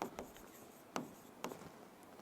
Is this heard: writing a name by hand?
yes